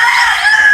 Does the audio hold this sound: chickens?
yes